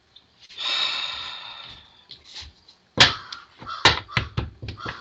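Crows in a yard give hoarse caws, a long drawn call first, then a quick series of sharp, nearby caws with breathy noise between them.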